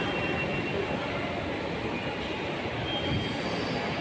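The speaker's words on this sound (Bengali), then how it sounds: "এখন তাম্বারাম থেকে লোকাল ট্রেনে আসলাম ত্রিশুলিয়াম এয়ারপোর্ট স্টেশন।" Local train rolling into an airport station, a steady loud rumble of wheels on track with faint squealing at times, continuous throughout with no voices.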